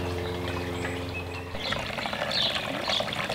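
Water trickling and pouring in a garden near an apiary, a steady close splashing that grows busier and louder partway through, over a faint low hum, with no talking.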